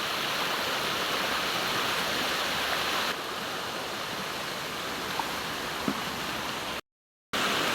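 Deep creek flowing steadily, a broad continuous rushing wash heard close, with a brief dropout near the end.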